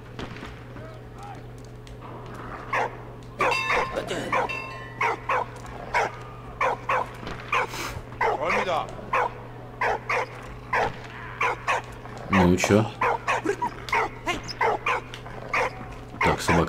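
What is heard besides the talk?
dog barking and whimpering in the video game Valiant Hearts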